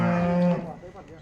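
A cow or buffalo moos once at a dairy livestock market in a Punjab village, a loud, close, drawn-out low call lasting about half a second and fading into quieter farmyard background.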